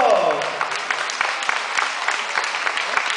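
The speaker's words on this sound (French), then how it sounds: "on l'applaudit très fort" Audience applause at an equestrian garrocha event in Hannut, a steady wash of many hands clapping with a descending voice or tone briefly at the start.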